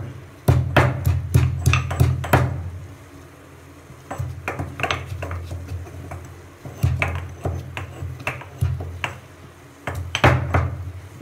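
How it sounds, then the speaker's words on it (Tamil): Sharp repeated knocks of ginger being pounded in a kitchen, irregular bursts of thuds separated by short pauses, close and fairly loud with no talking. "அதுக்குள்ளே நம்ம வெட்டி வச்சுருக்கிற இஞ்சியை வந்து நம்ம இதால் தட்டி வச்சுக்கலாம்"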